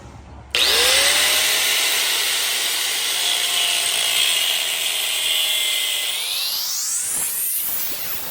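An angle grinder spins up abruptly and cuts steadily into the aluminum ear of a C5-C6 Corvette front brake knuckle, a loud, sustained high whine that rises in pitch near the end as the cut finishes.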